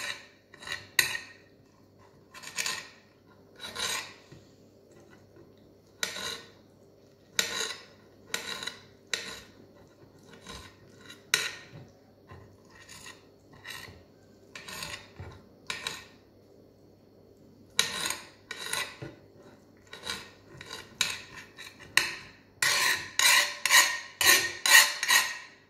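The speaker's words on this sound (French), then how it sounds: "Voilà, on en fait de la purée." A metal utensil repeatedly mashing and scraping grilled vegetables into a purée for Tunisian slata mechouia, in irregular clinking, rasping strokes against a plate or bowl, speeding into a quick flurry near the end, with no talking.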